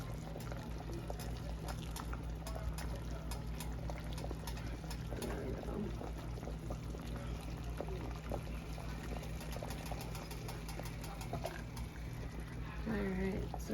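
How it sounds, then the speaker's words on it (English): A pot of albondigas soup bubbles at a steady boil, with a continuous dense rolling simmer close by, and a voice briefly speaks near the end. "You guys see everything's boiling."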